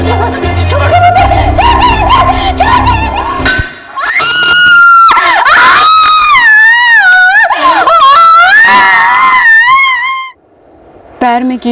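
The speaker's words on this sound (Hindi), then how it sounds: "पैर में कील ठोक दी" In a dramatised crime scene, a nail is hammered into a woman's foot: metallic clangs ring out, then loud, wavering screams and cries of pain rise and fall, close and harsh.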